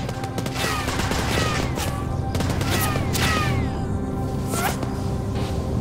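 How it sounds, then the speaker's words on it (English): Heavy gunfire and missile strikes in the Warhound video game, with dense, continuous bursts of shots and blasts layered under a constant roar of battle. "Penitentiary facilities under heavy fire by what appears to be actual missiles."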